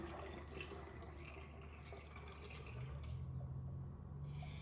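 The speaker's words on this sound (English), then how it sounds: "And then I'm going to pour in a 2nd pint." Water pours steadily into a quart bottle, a soft continuous splashing and trickling that rises slightly in pitch as it fills, faint and with no talking.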